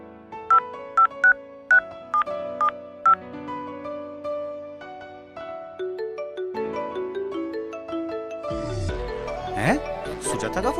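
A phone ringtone of repeated bright beeping tones, five or six in a regular pattern, followed by a melodic ringtone tune, fairly loud and close.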